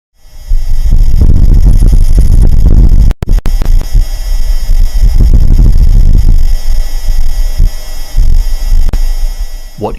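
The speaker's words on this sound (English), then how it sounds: "What you just heard is an actual gust of wind on the surface of Mars." Wind gust on the surface of Mars recorded by NASA's Perseverance rover in February 2021, a continuous low rumbling roar with throbbing swells, briefly cut out near three seconds, then carrying on steadily to the end.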